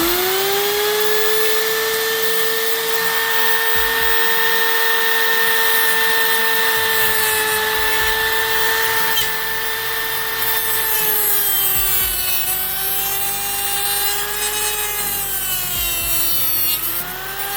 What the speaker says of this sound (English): I'm gonna cut the bolts out and go from there.